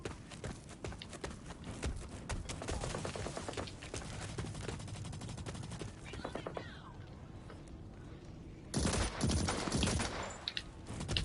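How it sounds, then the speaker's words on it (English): Rapid rifle fire in a survival video game, a dense run of sharp gunshots close by with a louder volley near the end, and a voice heard faintly at times. "I created what is essentially a semi-automatic burst fire sniper rifle."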